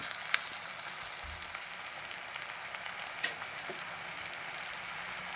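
Sardine masala sizzles steadily in a pan while it is stirred, with a few faint scrapes and clicks over a low, even frying hiss.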